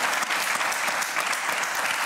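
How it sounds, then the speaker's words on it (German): An audience claps steadily in dense, continuous applause that fills the whole moment at a moderate, even level. "für die man dann auch Applaus kriegt"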